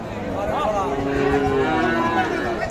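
Cows moo at a busy rural cattle market where dairy cows and calves are bought and sold, one long, close low call over a constant murmur of crowd noise.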